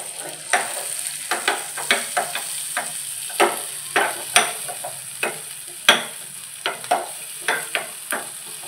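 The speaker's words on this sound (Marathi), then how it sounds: "तडका पॅनमध्ये मिरच्या टाकून घ्यायच्या." Green chillies frying in butter in a small tadka pan, with a constant sizzle broken by repeated sharp scraping and stirring knocks at an uneven, fairly quick pace.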